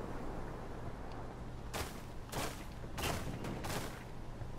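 Frag grenade blasts and gunfire from Ghost Recon Wildlands sound as a handful of broad, sharp bursts over a low rumbling background, fairly distant and muffled, with no talking.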